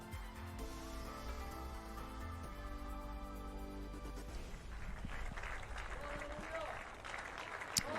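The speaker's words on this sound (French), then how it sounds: "Donc les applaudissements ici à Tokyo." Applause from a crowd at the Tokyo 2020 Olympics, a steady distant clatter of clapping beneath a commentator's continuous talk and background music.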